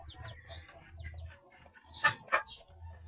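Young chicks with droppings stuck to their vents give close, high chirps and peeps in short bursts, with a couple of louder calls in the middle.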